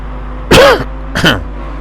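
Two short, harsh coughs close to the mic, spaced under a second apart, over a low steady hum, at a Mazda MX-5 race track.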